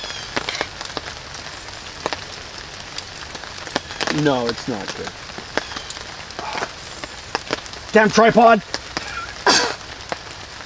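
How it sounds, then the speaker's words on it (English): Rain pattering steadily on surfaces at a wet campsite where ribs are being eaten, with someone talking briefly and some clunks over the constant patter. "Get out of the rain, man."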